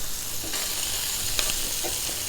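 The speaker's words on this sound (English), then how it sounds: "you can hear that sizzling there" Sausage meatballs fry in hot oil in a pan, giving a steady close crackling sizzle throughout with a few sharper pops, and no voices.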